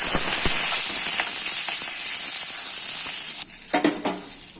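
Green beans frying in a pan with a little salt and turmeric give off a steady, bright sizzle with scattered pops and crackles, broken near the end by a few louder clatters as they are stirred.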